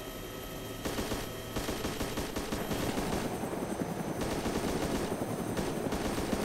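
Gunfire in Arma 2 DayZ, rapid bursts of automatic fire cracking in dense volleys over a steady helicopter rotor drone, loud and continuous for several seconds.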